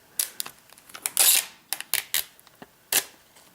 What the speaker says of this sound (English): so we're just going to peel this tab back